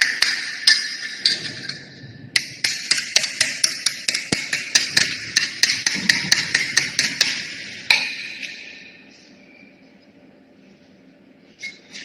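A hammer tapping lightly on a square metal tray in a lab, a rapid run of bright, ringing metallic taps close by, then a pause and a few last taps.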